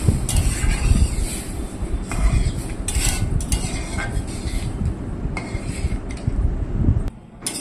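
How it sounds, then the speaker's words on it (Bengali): Fried vermicelli stirred with coconut milk in a pan: repeated scraping and clinking of a spoon against metal in an uneven rhythm, close and fairly loud, with brief soft liquid sloshing between strokes. "এবার ভালো করে সিমুইটার সাথে মিশিয়ে দেব।"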